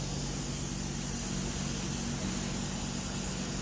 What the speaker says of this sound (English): You can hear the steam flow in the back.